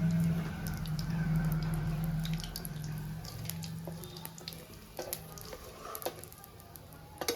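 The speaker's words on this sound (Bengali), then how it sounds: "তো এবার আমি তেলের মধ্যে রাঁধুনি ফোড়ন দিয়ে দিলাম। দুটো শুকনো লঙ্কা" Radhuni seeds and two dried red chillies sizzle and crackle in hot oil for a Bengali fish and bottle gourd curry, a steady close frying hiss that eases off with scattered pops and stirring clinks toward the end.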